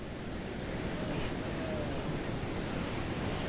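Rushing water from a waterfall at Fateh Sagar lake roars as a steady, loud, broadband wash that never lets up, with no voices over it.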